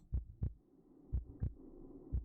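A slow heartbeat sound effect from a vampire video game thumps in paired lub-dub beats, three pairs, deep and muffled over a faint low hum.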